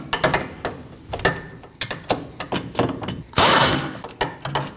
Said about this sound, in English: we can remove the bolts for the back of the caliper with a 15mm